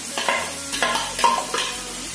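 Grated carrots for gajar halwa are stirred and roasted in a pan, giving a steady soft sizzle with a few scraping strokes of the spoon, close and continuous.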